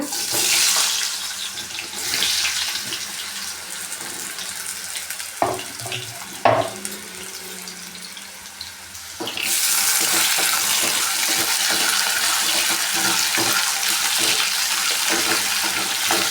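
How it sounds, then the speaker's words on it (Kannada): Potatoes frying in a pan over medium heat, a continuous hissing sizzle of oil with a brief quieter stretch marked by a few clattering knocks before the loud sizzle returns. "ಆಲೂಗೆಡ್ಡೆನ ಫ್ರೈ ಮಾಡ್ಕೊಳ್ಳೋಣ"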